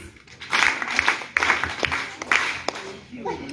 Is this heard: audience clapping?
yes